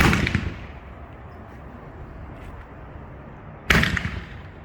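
A 1.5-inch yellow comet Roman candle fires twice, each a sharp, loud whooshing bang with a brief crackling tail, spaced a few seconds apart at a demonstration outdoors.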